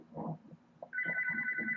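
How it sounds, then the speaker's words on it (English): A phone rings with an incoming call: after some muffled rustling and faint sounds, a steady electronic ringtone starts and holds loud and continuous to the end. "Got a phone call."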